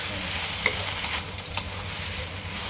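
Fish and holy basil are stir-fried in a pan: a steady close sizzle with scraping stirs and a couple of sharp clinks of the utensil against the pan.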